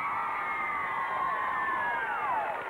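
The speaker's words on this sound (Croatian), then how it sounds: "Jedan aplauz za to." An audience responds with continuous cheering and crowd noise for a folk dance group that won a bronze medal at an international competition, the sound steady and loud throughout with no clear clapping.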